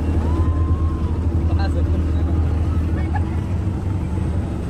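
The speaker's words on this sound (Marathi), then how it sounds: "कुलाबा किल्ल्यावरून आता आपल्या बोटीने परत आपल्या एरियावरती ही बोट आहे, बोटीने तुम्ही जाऊ शकता." A boat heading back from Kolaba fort at Alibag: the engine gives a steady loud low drone with water and wind noise around it, and a voice carries faintly through it.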